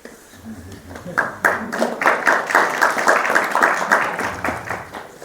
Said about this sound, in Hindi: माँ हो आप, सच में सही टाइम पे ताली बजाती हो।